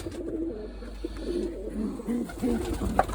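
Young pigeon chicks in a coop coo softly in low, repeated murmuring phrases, close by and continuous, with no talk over them.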